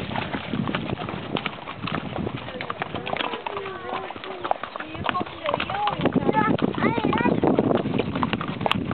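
Horse hooves clip-clop in a steady trot during a ride near Villa de Leyva in Sáchica, Colombia, fairly faint under people talking, with birds and pigeons calling in the background.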